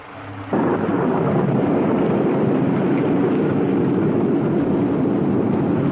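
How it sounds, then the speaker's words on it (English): A sudden, heavy rumble of thunder breaks in and rolls on loud and steady without easing, a dense roar that fills the scene with no voices over it. "it sounded like thunder"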